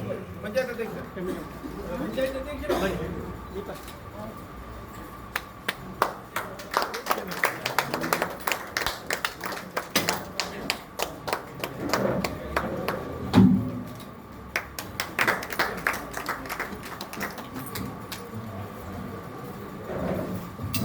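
An audience claps at the lamp-lighting opening of a felicitation function in a hall, with steady, moderately distant applause building and lasting many seconds, mixed with voices and room murmur.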